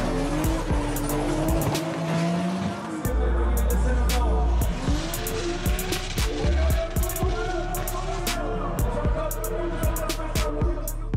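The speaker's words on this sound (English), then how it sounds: "David Karkoshik took 2nd after a super smoky drift." A race car, including a one-of-a-kind BMW 3 Series, drifts at a motorsport event in the Czech Republic, its engine roaring loud and steady with sustained tire squeal and skidding throughout.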